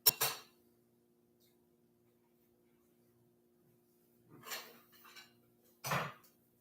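A frying pan and cutlery clatter and clink in a home kitchen while an English muffin is cooked, with one sharp burst at the start and two more clanks near the end separated by quiet.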